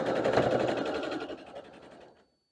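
Sewing machine stitching quilt block pieces together for a barn star sampler block, a fast steady whirring run that slows and stops, close by.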